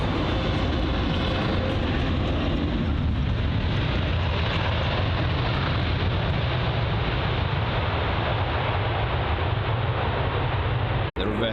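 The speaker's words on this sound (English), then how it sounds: "The reverse thrust on that 777-200 loud." An American Airlines Boeing 777-200 landing at London Heathrow, its reverse thrust a loud, steady roaring rush that fills the whole stretch before cutting off with a sharp click.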